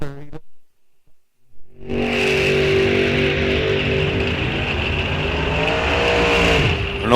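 A drag racing dragster roars off the line at a strip, a sudden loud, sustained engine blast after a brief near-silence, holding steady and close for several seconds.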